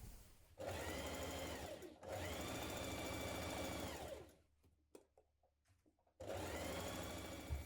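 Sewing machine stitching a jumpsuit seam in two long steady bursts of rapid whirring, then a quiet pause with small handling clicks before a third run starts up, close and clear.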